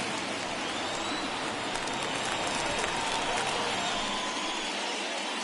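Stadium crowd in the baseball video game MLB The Show 21 cheering as a noisy, steady wash of roaring fans, loud and continuous with no distinct voices.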